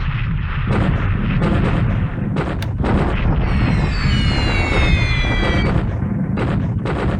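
Bombing run explosions in the War in the Pacific video game: a loud, continuous barrage of booms and rumbling blasts with a whistling descent partway through.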